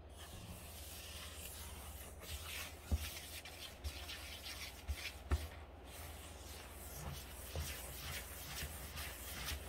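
Strawberry brownie batter being mixed in a bowl, soft close scraping and rubbing strokes in an uneven rhythm, with a few light knocks of the utensil against the side.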